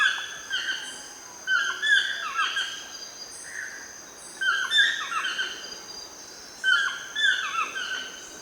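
A bird of paradise native to New Guinea calls in bursts of sharp, bright, chirping notes that come in clusters every second or two, fairly close against a quiet background.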